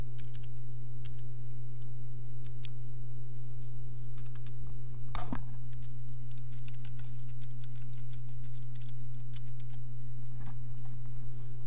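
Typing on a computer keyboard while entering a web address in a form, a steady run of light, close key clicks with one heavier press near the middle, all over a constant electrical hum and with no voices.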